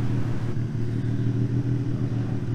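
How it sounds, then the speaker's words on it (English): A turbocharged Nissan Z31 on Megasquirt engine management idles on a dyno after starting up, giving off a steady, deep, even engine rumble with no voices. "So we got the car started up."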